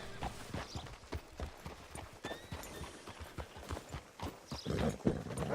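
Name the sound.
horse hooves clip-clop, from a video game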